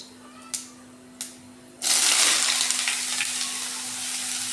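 Banana stem hits hot mustard oil seasoned with panch phoron and bursts into a loud, steady sizzle after two sharp clicks, the frying holding strong and close to the end.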